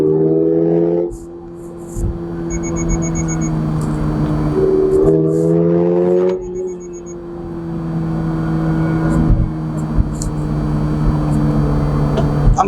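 A 2024 Toyota GR86 Premium with a manual transmission drives with its engine held around 4,000 to 5,000 RPM, a loud steady drone that dips and climbs through gear changes.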